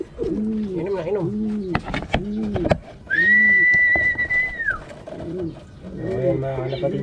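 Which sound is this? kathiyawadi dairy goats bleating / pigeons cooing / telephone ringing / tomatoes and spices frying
pigeons cooing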